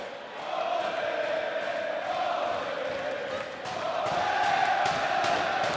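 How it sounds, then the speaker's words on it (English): A wrestling crowd at a Ring of Honor match roars and cheers in a steady, swelling din that grows louder toward the end, with chanting voices blending into the noise. "Listen to this crowd."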